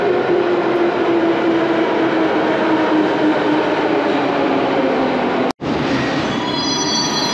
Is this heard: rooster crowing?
no